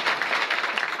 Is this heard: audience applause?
yes